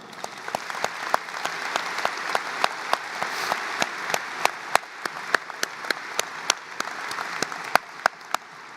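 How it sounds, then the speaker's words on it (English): Applause from the audience at a 2023 high school graduation ceremony as honor society students stand, steady mid-level clapping throughout with distinct sharp individual claps popping out near the microphone and no talking. "Please recognize these students with your applause as they stand."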